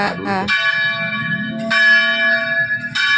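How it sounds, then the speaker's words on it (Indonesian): A church bell rings out loudly and close, several resonant strikes whose tones hang and overlap, with a faint voice briefly at the start. "Kenapa ya lonceng gereja kamu bawa ke sini?"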